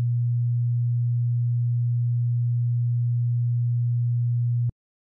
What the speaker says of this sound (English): And then 120 hertz.